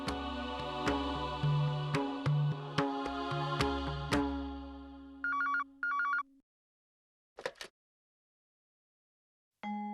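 A telephone ringtone plays a bright repeating melody of chiming notes for several seconds, followed by a few short electronic beeps and brief clicks, clear and alone with no talk.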